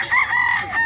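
A rooster at a chicken market in Lipa, Batangas gives a single short, loud crow close by, with no talk over it.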